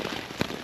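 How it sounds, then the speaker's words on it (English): Rain falling on a cheap camping tent in bad weather, a soft continuous patter of drops with one slightly louder tap midway, close and gentle. "I love being in a rainy tent."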